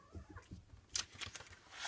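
A playful kitten makes scattered soft thumps and scuffles near a craft table, with a few brighter rustling bursts and a faint cat-like call, all fairly quiet and close.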